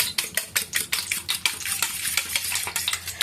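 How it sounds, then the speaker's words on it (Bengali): A fork beats an egg with salt in a bowl, giving a fast, steady run of close metallic clicks and taps against the dish, with no talking. "একটা ডিম নিয়েছি, ডিমের মধ্যে নুন দিয়েছি, নুন দিয়ে কাঁটা চামচ দিয়ে এভাবে ফাটিয়ে নিলাম।"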